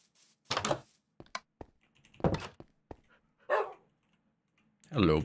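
A dog barking in the Minecraft video game, several short separate barks spread through the clip, with a few soft game thunks between them.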